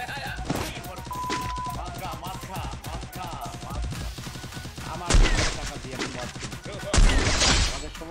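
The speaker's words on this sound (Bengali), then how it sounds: "অটোমেটিক ফায়ার দিতাছে, তো দিতাছে।" Automatic gunfire rattles through a video game battle: dense, rapid bursts of shots run almost continuously over game sound, with two heavier, louder volleys standing out near the end.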